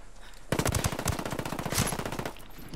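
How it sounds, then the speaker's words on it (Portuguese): Rapid automatic gunfire in the video game Ghost Recon Wildlands, a loud sustained burst of closely spaced shots that starts abruptly and runs for about two seconds before fading out. "Estão atirando em mim."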